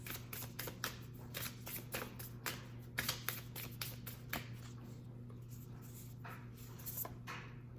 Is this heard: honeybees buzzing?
no